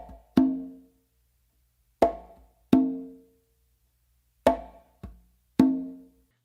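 Conga struck in a tumbao figure with a close slap, ghost note and open tone: a few sharp, isolated hand hits at uneven spacing, close and dry, with silence between strokes.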